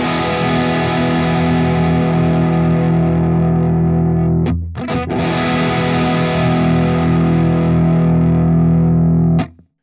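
A distorted electric guitar chord runs through a compressor pedal with its attack knob turned fully left, sustaining loudly and thickly, then briefly cut and struck again before ringing to a stop, with no talk.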